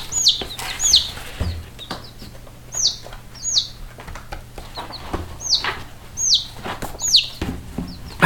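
Dual-purpose chickens calling nearby, with short high chirps repeated in irregular bursts about every half second to a second, plus occasional soft flutters and rustling over a low steady hum.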